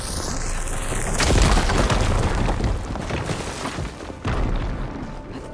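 A firegleam deposit blown up in Horizon Forbidden West, a loud, deep boom with a rumbling roar that swells, holds and tails off, with a second thud near the end.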